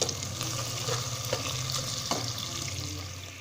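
Chopped onions fry in a pan until soft and translucent, a low, even sizzle with occasional faint scrapes of a stirring spoon, heard close and alone.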